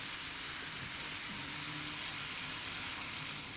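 Ginger-garlic paste sautéing in a pan with a little oil, giving a steady, soft, close sizzle and crackle that runs evenly throughout without talk.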